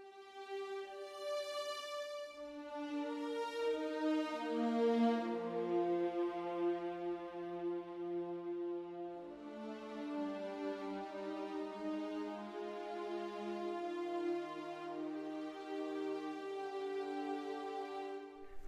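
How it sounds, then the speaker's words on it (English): A Spitfire Mural sampled string ensemble of first violins, second violins and violas plays sustained, layered chords that shift slowly and swell warmly, full and close, with no talking over it. "So now we've got violin 1s, violin 2s and violas."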